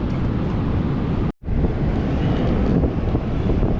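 Strong storm wind buffets the microphone on a beach, a loud continuous roar with one brief drop to near silence partway through before the gusting returns.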